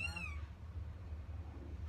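Newborn kitten gives one short, high, thin meow at the start, then only low background hum remains.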